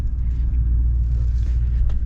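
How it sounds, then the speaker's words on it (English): A 2023 Mercedes GLS 63 AMG in Sport Plus gives off a deep, steady exhaust rumble, heard from inside the cabin over road noise while driving. "Definitely hear more with the exhaust."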